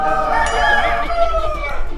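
A rooster crows in a long, drawn-out call, loud and close, with one sustained harmonic cry filling the whole stretch and no voices over it.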